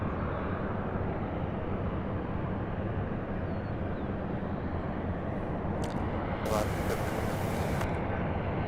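A Breeze Airways aircraft at Louisville International Airport gives a steady, broad jet engine rumble that holds evenly throughout at a distance, with brief bursts of radio chatter toward the end.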